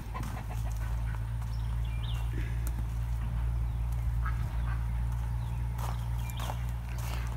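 A farmyard flock of chickens clucks and calls at scattered moments over a steady low rumble, with soft footsteps and rustling nearby and no talk.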